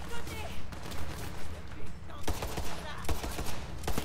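Rapid pistol fire in Borderlands 3, a quick series of punchy shots with a rhythmic pattern that grows louder and denser in the second half, with no talk over it.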